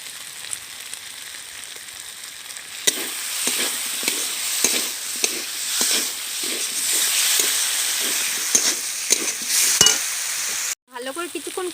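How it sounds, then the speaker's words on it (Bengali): Spices with Kashmiri chili powder, mustard paste and green chili paste sizzle and fry in a pan for a Bengali parshe fish curry, with steady hissing and repeated scraping stirs throughout, ending in a brief pause and clatter. "ভালো করে কিছুক্ষণ কষিয়ে নিয়েছি।"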